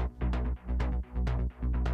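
Layered synth bass from Omnisphere and a Moog Subsequent 37 plays a rhythmic run of four thick, pulsing notes, each swelling and cutting off in an even groove, with no voices.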